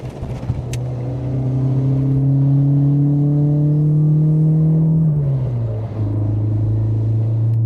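MG Maestro 1600 hot hatch engine pulling through tight corners, a loud, close in-car drone rising steadily in pitch, then easing and dropping before picking up again, with no talk.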